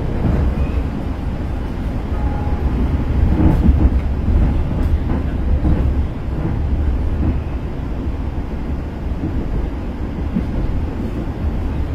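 The Tegal Bahari passenger train rumbles along steadily, a low continuous rolling roar with faint rattles and clanks, heard from inside without talk.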